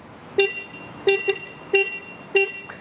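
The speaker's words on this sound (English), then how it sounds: "horn check for the Husqvarna Svartpilen 200" Four short, high-pitched horn beeps from a Husqvarna Svartpilen 200 motorcycle sound in an even rhythm, with a faint extra chirp after the second, close and clear.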